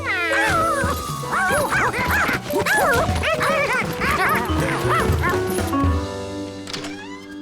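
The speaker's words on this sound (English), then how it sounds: "When he heard her bark" A cartoon dog barking, a long run of rapid yips, barks and whimpering cries, loud and close, mixed with backing music.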